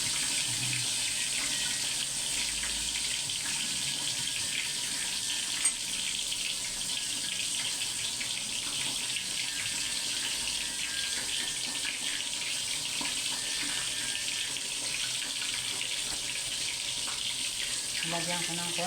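Tilapia frying in hot oil makes a steady, dense hiss and crackle of splattering that holds throughout, with faint talk in the background.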